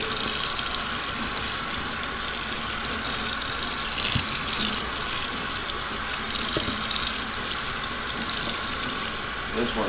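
Steady running warm water splashes from a tap into a sink, loud and continuous, as a tie-dyed tee is rinsed under the stream.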